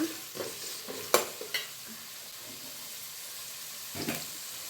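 Onions frying in a pan for a tomato egg gravy, a soft sizzle with a few stirring scrapes and clinks near the start and end, quiet stretches between.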